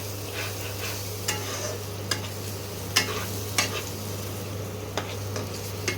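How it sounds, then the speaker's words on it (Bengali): Onion paste fries with a steady sizzle in a pan while a spoon scrapes and taps the metal every second or so. "এবারে ভালো করে পেঁয়াজটাকে একটু কষিয়ে নেব।"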